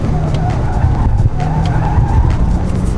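Porsche Taycan in Sport Plus mode braking hard into a curve on a sandy road, tires squealing and skidding loudly under the low electric drive hum, with brief talk faintly mixed in.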